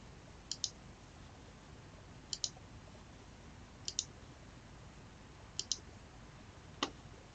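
Crisp mouse clicks come in five evenly spaced pairs and singles against a faint steady hiss as PIN tiles are picked on a Mac screen while setting up a Trezor hardware wallet.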